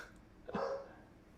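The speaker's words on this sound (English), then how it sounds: "Sorry if you can hear my dogs barking in the background." A single dog bark rings out once, somewhat distant and muffled, against quiet background noise.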